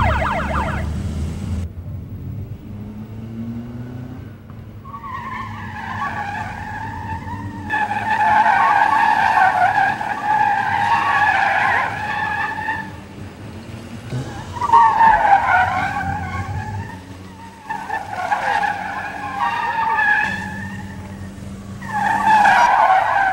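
Race cars in a 2005 international gymkhana competition in Taiwan skid and squeal through the course, with repeated long, loud tire screeches rising and falling over steady engine roar.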